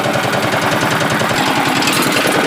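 A mini palm oil mill's screw press machine runs while processing oil palm fruit, giving a loud, close, continuous mechanical clatter with a fast, even pulsing rhythm and no talk.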